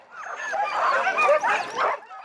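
A team of sled dogs barks and yips excitedly at a dogsledding outing in southern Saskatchewan, a dense overlapping chorus of high yelps and whimpers filling the whole stretch, fairly close and loud.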